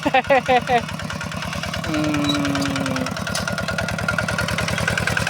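A small single-cylinder walk-behind tractor engine chugs steadily with a fast, even thumping rhythm, close by, with brief voices early on.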